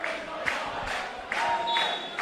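Crowd at a men's Premier League grand final football match between Mindil Aces and University Azzurri, cheering and roaring in rising swells after a goal, with broad sustained noise and a few whistles cutting through.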